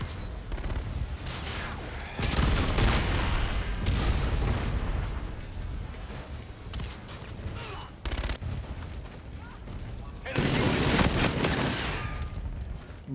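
Close-range gunfire in a Call of Duty multiplayer match, heavy bursts of shots with dense overlapping rattles and booms, surging loudest in two long stretches separated by brief quieter gaps.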